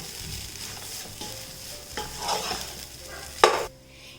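A spoon stirs a sweet tea-time snack mixture with cardamom powder in a pan, giving soft close scraping and light sizzle, then one louder clack near the end before it cuts off. No one speaks.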